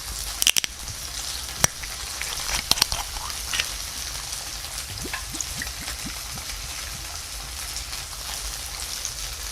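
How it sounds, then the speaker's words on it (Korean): Tofu slices pan-frying in oil, alongside pork shoulder and sausages being grilled, give a steady, moderately loud sizzle with scattered sharp pops and crackles, heaviest near the start, continuous throughout with no talk. "지금은 두부를 좀 굽고 있고요"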